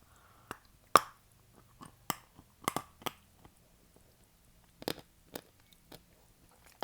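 Sharp, crisp crunches of firm fruit being bitten and chewed, scattered bites with quiet pauses between, close and fairly soft.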